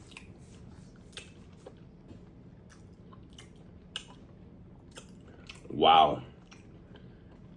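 Sour tamarind gets chewed with soft, wet clicks and squishes, close and quiet, and a brief louder vocal exclamation comes near the end.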